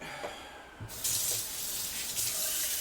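A kitchen tap opens to a steady, fairly close rush of running water as food is rinsed at the sink, a few soft clunks in between.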